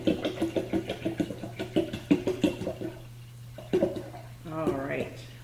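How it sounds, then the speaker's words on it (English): Water glugs out of a big water bottle as it is poured, a quick regular run of gurgling pulses that pauses and then resumes, with a voice heard near the end. "We're going to add some more water."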